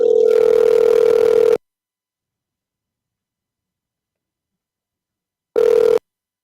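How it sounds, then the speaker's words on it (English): Telephone ringback tone on an unanswered call, a steady tone lasting about a second and a half, then a long silence, then the start of the next ring. No voices. "He ain't picking up the phone"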